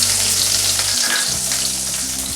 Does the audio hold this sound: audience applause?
no